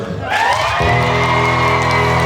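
At a concert, the audience cheers loudly with whoops and shouts that rise quickly into a sustained roar alongside clapping, with musical tones sounding underneath.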